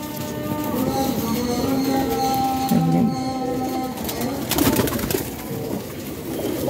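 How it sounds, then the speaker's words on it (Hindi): Kasuri kamagar pigeons in a pigeon loft coo softly in low, rolling calls, mixed with a steady background hum, scattered rustling and occasional sharp clatters. "बारीक तिलियों के भरे हुए कबूतर हैं भाई जान।"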